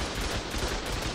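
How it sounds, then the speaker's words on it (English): Automated turrets in the video game ARK firing at a turtle, a dense rapid burst of gunfire that fills the whole moment, loud and continuous. "all three turrets actually shot the turtle"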